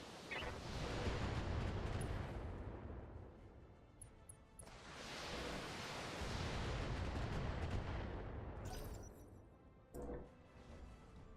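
Heavy mech weapon fire in BattleTech: a long rumbling barrage of booming blasts and roaring explosions, loud and continuous, dipping briefly before a second sustained volley, with a short sharp burst near the end.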